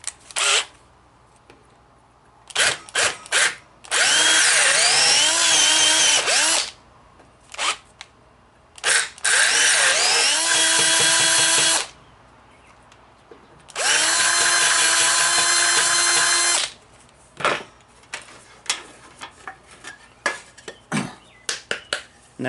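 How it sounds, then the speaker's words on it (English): A power drill bores a 3/8 inch hole in a wooden dining room chair during regluing, running in three long loud bursts of several seconds each, with clicks and handling knocks between them and no talk. "I'm going to go with the size drill bit that I need to finish the hole, which is 3/8 of an inch on this particular chair."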